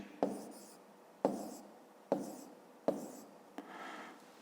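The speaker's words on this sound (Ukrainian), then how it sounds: "Отже, записуємо 270." Someone writes numbers by hand, likely pen or pencil on paper, in four short scratchy strokes with brief pauses between them, followed by a lighter rubbing sound, close and quiet.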